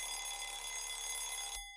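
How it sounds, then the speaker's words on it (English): A telephone rings in the Danganronpa video game, a continuous bright electronic bell trill at a steady level that cuts off abruptly near the end. "Can you answer the phone, please?"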